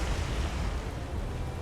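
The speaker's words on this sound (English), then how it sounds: "nice explosion" A sustained, loud rumbling blast from a warship explosion in the naval combat game War on the Sea, Pacific campaign around Milne Bay, with dense low roar filling the whole moment and no voices.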